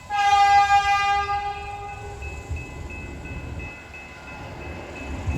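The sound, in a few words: passenger train passing with horn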